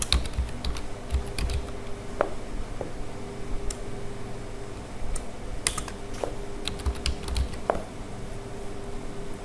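Fingers tap steadily on a computer keyboard at a desk, light irregular clicks close by with a few sharper keystrokes over a quiet room hum.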